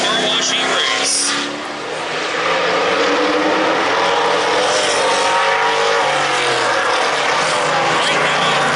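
Race cars roar around a short oval at Lake Doucette Motor Speedway during a heat race, engines droning loud and continuous with a brief dip near the start, while a commentator's voice runs underneath.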